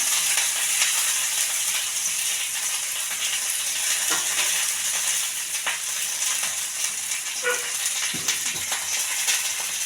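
Small onions, dried red chilli and curry leaves frying in hot oil, a steady close hiss and sizzle with light crackling pops throughout, no voices.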